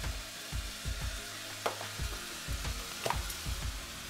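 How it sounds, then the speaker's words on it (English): An egg fries in a wok with a steady soft crackle, broken by repeated low scraping and stirring knocks and a few sharper utensil clicks, close by and moderately loud. "Now, you want the egg, so just fry a bit."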